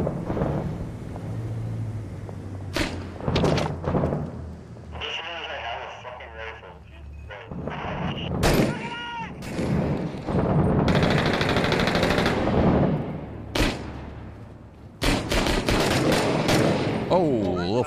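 Bursts of automatic and single-shot gunfire in the Iraq-set shooter game Six Days in Fallujah, loud cracks and rattling volleys at irregular intervals, with radio chatter and players talking between the shots.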